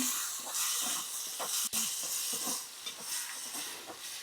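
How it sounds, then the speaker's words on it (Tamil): Tamarind water poured into a hot pan of Jaffna-style brinjal curry and stirred, giving a constant loud hiss and sizzle with scattered scraping stirs. "கரைத்த புளியை பின்பு சட்டியுள் ஊத்தவும் பின்பு நன்கு கிளறவும்"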